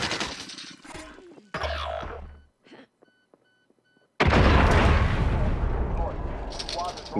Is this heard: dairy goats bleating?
no